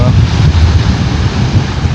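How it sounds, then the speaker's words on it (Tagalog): Strong ocean waves surge and crash as a constant low, heavy roar, buffeted by loud wind noise on the microphone, with faint voices mixed in. "Malakas yung alon."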